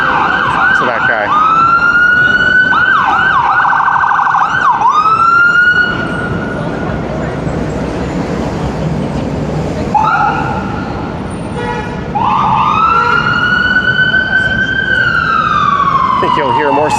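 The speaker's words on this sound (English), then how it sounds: "I think you'll hear more sirens from this spot than anywhere else in the city." Emergency vehicle sirens wail loudly and close on Dundas Street East in downtown Toronto, with rising and falling tones repeating over heavy traffic rumble, briefly dropping away mid-clip before sweeping up again.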